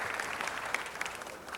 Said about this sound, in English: Please give Mr. Rich a round of applause.